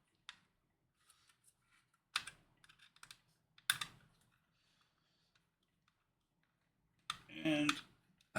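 Small screws being tightened into the plastic internal framework of a Fanhome E.T. the Extra-Terrestrial model: sparse close clicks and scratchy ratcheting bursts of the screwdriver and parts, separated by quiet gaps.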